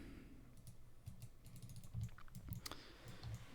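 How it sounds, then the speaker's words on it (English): Rapid, frantic computer mouse clicking at a desk during game level design work, a quick uneven run of faint, close clicks with no talking. "You can hear me frantically clicking there"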